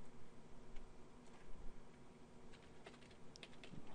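Faint, scattered key presses on a computer keyboard during video editing, soft sporadic clicks over a low background hum.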